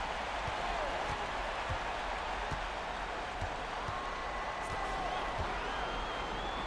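An NBA arena crowd at a Houston Rockets vs OKC Thunder game keeps up a constant roaring murmur with scattered shouts and claps. The dense, even wash of noise has a commentator's voice faintly underneath.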